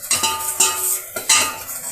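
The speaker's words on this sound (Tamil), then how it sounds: "போட்டுட்டு கொஞ்சம் ஏலக்காய் தூள் இதையும் இதோட போட்டுக்கலாம். போட்டு கலந்து விட்டுக்கலாம்." A spoon scrapes and clinks around a metal pan while cardamom powder is mixed into sugar syrup, three quick stirring strokes with bright metallic scraping, close and alone.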